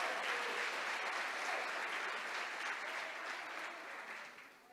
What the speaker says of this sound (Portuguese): Se você crê nisso, aplauda o Senhor